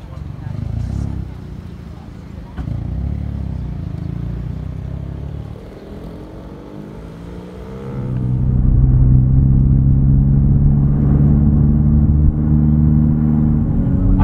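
A Hyundai i30N Performance hatchback with the performance pack drives on the road, its engine rumbling low and swelling louder as it accelerates, while a driver talks inside the cabin.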